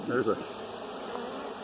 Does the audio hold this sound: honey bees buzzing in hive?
yes